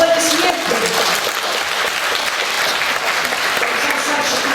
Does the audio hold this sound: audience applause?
yes